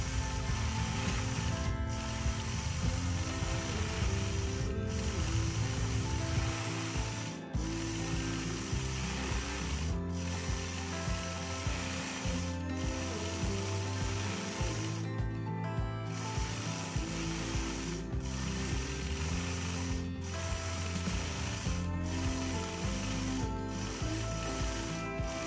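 A home sewing machine stitches quilted feathers on a Farmers Star quilt, running in a continuous mechanical clatter for about twenty-five seconds, broken by brief regular pauses.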